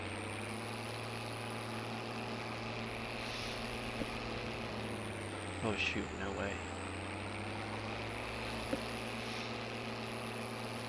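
A farm tractor engine runs steadily on planting day, a loud, constant low drone heard from the cab with a slight dip in pitch midway, while a person speaks briefly over it.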